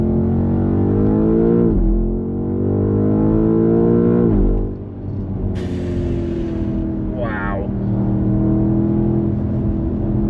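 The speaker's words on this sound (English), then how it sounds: "This bit of road isn't the widest, and the tarmac isn't the best, but the car's dealing with it brilliantly. Gearbox is pretty slick on the way down." BMW M5 Touring driving a narrow, rough tarmac road, its engine droning steadily inside the cabin with two quick rev blips as the gearbox downshifts, plus road and tyre rumble.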